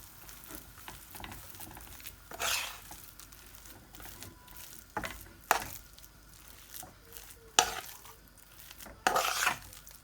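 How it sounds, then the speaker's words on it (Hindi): Potato samosa filling is stirred and mixed in a pan, soft scraping punctuated by several louder clanks of a spoon against metal at irregular intervals. "ये अच्छी तरह से इसमें ऐसे मिक्स कर लें इसे"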